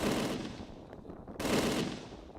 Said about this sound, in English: The MG42 is the sound of a bad day.